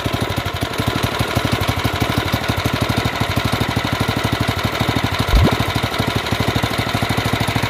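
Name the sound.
off-road kart engine running after switching from choke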